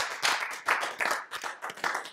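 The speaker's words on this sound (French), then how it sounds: "on applaudit encore une fois" Audience applause with clustered, uneven bursts of clapping close to the listener, rising and falling in several waves over a couple of seconds, with no voices over it.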